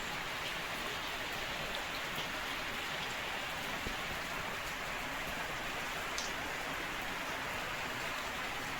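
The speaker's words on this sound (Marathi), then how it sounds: "नुसता पाऊस" Rain falls steadily throughout, a continuous, even patter and wash at moderate loudness with no voices.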